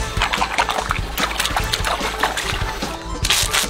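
Close, busy splashing and sloshing of food being washed in water, with continuous irregular splatters and drips and no clear speech.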